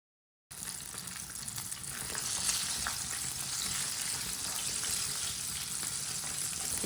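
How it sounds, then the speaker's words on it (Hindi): Chicken pakora frying in hot oil, a steady hissing sizzle that starts abruptly and holds at an even level throughout, with no voices. "चिकन को इसी तरह ना अच्छी तरह फ्राई कर लेंगे।"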